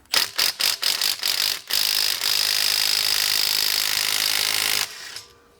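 Compact cordless impact wrench working a lug nut off a car wheel: a string of short sharp bursts, then a long steady whirring hammer lasting about three seconds before it cuts off, loud and close with no talk.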